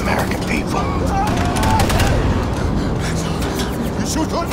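Gunfire in a Wolfenstein II: The New Colossus trailer, a dense burst of shots layered under a loud orchestral score and voices, with sharp transients scattered through the busy mix.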